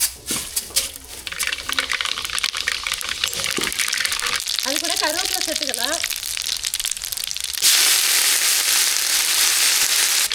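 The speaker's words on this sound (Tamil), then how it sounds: "வெந்தயம் நல்லா பொரிஞ்சிருச்சு" Fenugreek seeds crackle and splutter in hot oil in a home kitchen, a close, bright crackling hiss that swells loudly toward the end, with a voice speaking over part of it.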